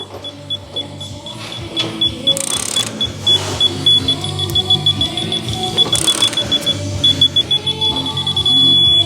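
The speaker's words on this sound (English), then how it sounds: "The beeping will get faster when it gets closer to the torque." A digital torque wrench beeps steadily and high-pitched while tightening suspension bolts on a VW Caddy during lowering, with workshop clatter and handling noise underneath.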